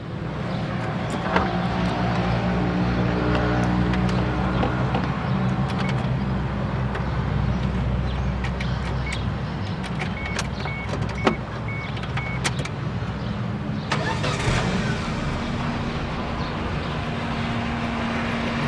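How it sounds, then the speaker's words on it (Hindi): A Suzuki Alto VXR engine runs at a steady idle, giving a constant low hum with faint ticking and a brief higher whir partway through. No voices are heard. "भाई साहब गाड़ी स्टार्ट करके साउंड सुनाए हमें, गाड़ी के साउंड सुनाए।"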